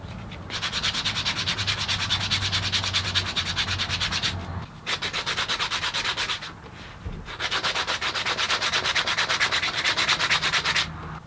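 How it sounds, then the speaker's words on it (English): Sandpaper rubbed by hand along the edges of a leather project in long, steady back-and-forth strokes, close and loud, with two short pauses between passes. "Here I'm just sanding the edges nice and smooth."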